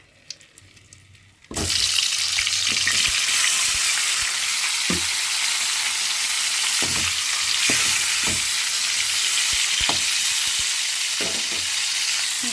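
Onions and tomatoes dropped into hot oil burst into a loud, steady sizzle after a quiet start, with occasional clinks and stirring scrapes over the continuous frying hiss.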